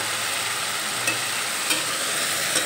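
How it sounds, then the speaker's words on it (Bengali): Masala spices frying on medium flame in a pan for a Bengali bhola fish curry with potatoes, giving a steady loud sizzle with a few soft stirring scrapes, no talking. "মিডিয়াম ফ্লেমে এই মশলা একসঙ্গে 4-5 মিনিটের মতো কষিয়ে নেব।"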